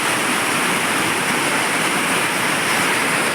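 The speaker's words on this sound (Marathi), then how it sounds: "आता बघा किती मोठा मोठा पाऊस पडतो" Dense, steady hiss of heavy rain pouring down without pause, loud and close, with no voices.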